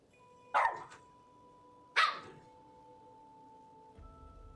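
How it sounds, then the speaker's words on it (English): A dog gives two single barks about a second and a half apart, fairly close and clear, over a steady electronic hum. "That's Zero's bark"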